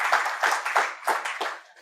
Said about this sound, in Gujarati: બંને વક્તાઓનું ખૂબ તાળીથી સન્માનપૂર્વક અભિવાદન કરીશું